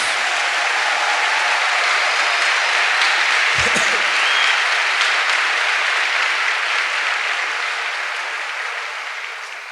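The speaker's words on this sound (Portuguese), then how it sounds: "Give the Lord a big clap." Sustained audience applause at a church teaching service, a dense steady wash of clapping from a congregation that holds loud for most of the stretch and eases off slightly toward the end, with a brief low thump partway through.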